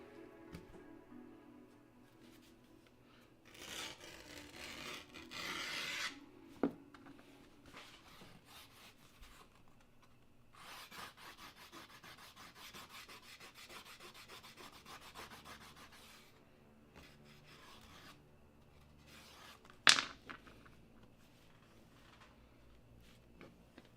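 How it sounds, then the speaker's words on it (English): A leatherworking beveler sharpened by rubbing on an abrasive surface, quiet repeated strokes in bursts with a few pauses and one sharp click near the end, close by and with no speech. "This is how I would sharpen this one that we just used."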